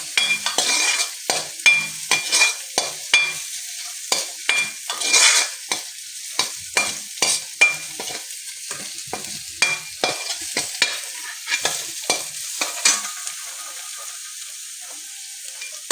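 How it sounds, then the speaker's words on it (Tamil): Garlic roasting over low heat in sesame oil, stirred steadily with a utensil: repeated scraping strokes and clinks ring out over a soft sizzle, with the stirring pausing briefly toward the end. "நம்ம சிம்மில் வச்சுட்டு நல்லா ஃப்ரை பண்ணிக்கிறோம் பூண்டை"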